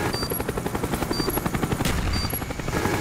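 An enemy Cobra attack helicopter in Black Ops, on a jungle demolition map, thuds past with rapid, loud rotor chop. Bursts of distant gunfire crackle underneath.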